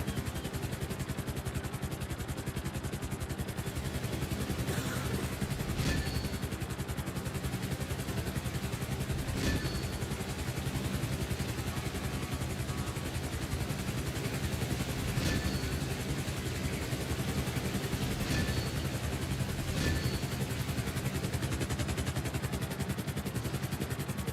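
A helicopter flying in GTA V, a steady continuous engine and rotor drone held at an even level throughout, with faint clicks occasionally standing out.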